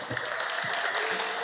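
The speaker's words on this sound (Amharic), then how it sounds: "አጨብጭቡ።" A crowd at a holiday gathering claps steadily, a dense and continuous burst of applause filling the room.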